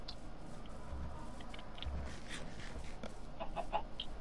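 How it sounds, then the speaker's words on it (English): Clucking chicken in the video game Minecraft, a few short faint clucks rising toward the end over a steady game-audio background. "There's a chicken."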